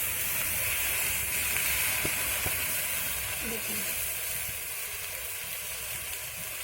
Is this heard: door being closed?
no